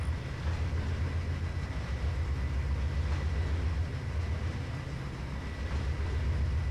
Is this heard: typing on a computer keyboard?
no